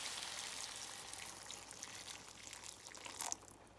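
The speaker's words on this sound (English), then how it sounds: "So I'll go in now with about a cup and a half of water" Warm water, about a cup and a half, pours into a pot of brown stew chicken with potatoes and carrots, a steady close splashing hiss that swells briefly near the end.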